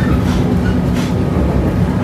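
Panoramic luxury passenger train on the Pangandaran line in Indonesia, a loud, steady rumble of wheels on rails with faint rhythmic clatter, heard close from onboard.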